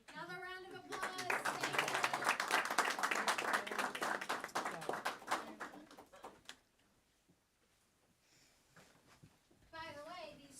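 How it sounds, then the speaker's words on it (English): A round of applause at a school board of education meeting, steady clapping for about six seconds with voices over it, then a quiet stretch before a voice speaks again. "Another round of applause."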